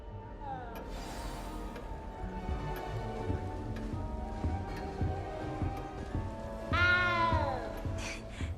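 A cat in the game Hogwarts Legacy meows in a few drawn-out, rising and falling cries, the loudest near the end, over soft ambient game sound.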